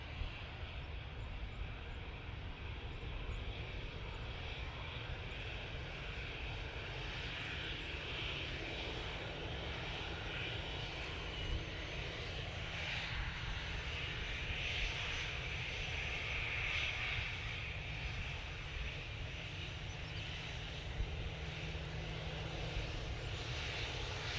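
EasyJet airliner bound for Athens at Manchester Airport, a faint steady engine rumble and hiss at a distance, continuous throughout.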